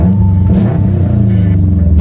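A Subaru WRX engine runs steadily at idle just after a fuel fix, a close, loud low rumble with a faint rise in revs, and no talk over it.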